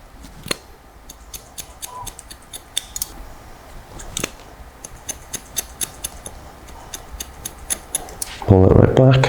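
Scissors point-cut hair during a crop top fade haircut with a run of sharp, evenly spaced snips, close and fairly crisp, ending in a louder rustle.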